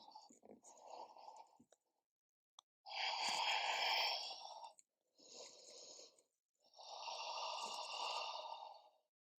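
Slow yoga breaths during a vinyasa sun salutation, four audible breaths in and out, the longest and loudest lasting about two seconds each, close and quiet with silent gaps between.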